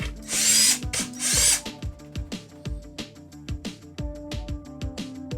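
A power drill takes two number 2 Phillips screws out of a Shop-Vac. Two short high whirring bursts are followed by a series of quick ratcheting clicks as the driver spins, close and clear.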